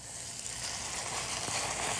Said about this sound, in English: we're just going to brown this tenderloin